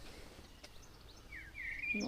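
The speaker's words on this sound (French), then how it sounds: "On entend les oiseaux gazouiller." Small birds chirp faintly in the distance in the Dutch village of Giethoorn in April, their brief high calls rising over a quiet outdoor background.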